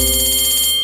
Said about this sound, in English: Oh, the bell's ringing.